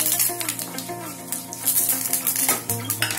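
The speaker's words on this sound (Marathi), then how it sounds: "व्यवस्थित हलवून घेऊया" A spoon clinks and scrapes in a pan while curry leaves are stirred into a sizzling mustard-seed tempering for karela fry, with irregular metallic taps and scrapes over a steady crackle of frying oil.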